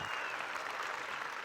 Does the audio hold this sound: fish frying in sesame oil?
no